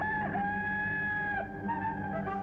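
Rooster crowing in a World War II era wartime newsreel: a sustained, strained crow of steady pitch holds for about two seconds over a dense background, with a slight break partway through.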